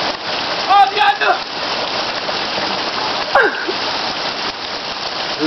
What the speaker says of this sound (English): It's rain!